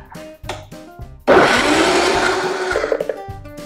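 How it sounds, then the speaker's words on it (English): Blender running loud and steady, whirring through an acai smoothie with spinach; it kicks in sharply after a few soft clicks and knocks of the lid being set in place, then churns on to the end. "We're gonna put the top on the blender"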